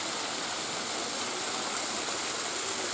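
A small waterfall rushes in a continuous, loud, close roar of falling and splashing water that stays even throughout, with no voices.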